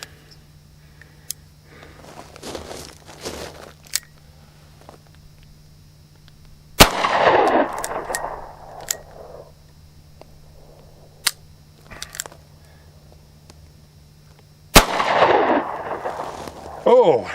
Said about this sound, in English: Let me put a couple more rounds through this.